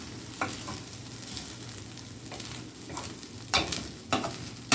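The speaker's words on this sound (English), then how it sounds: "stir your rice into it." Rice stirred into ham fried rice in a hot pan: a steady low sizzle runs throughout, broken by repeated scraping strokes of a utensil, sharper and louder toward the end, close up and with no talking.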